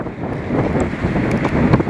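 Strong wind on a football field buffets the microphone in a steady, rumbling roar, with gusts swelling and fading throughout and no voices.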